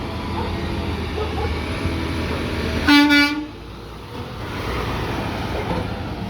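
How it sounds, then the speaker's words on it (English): A single loud blast of an air horn on a Peterbilt 520 McNeilus ZR garbage truck, lasting about half a second over the truck's running engine and outdoor background noise. "I can't believe Jovani honked at me with Juan's truck. I finally heard Juan's air horn"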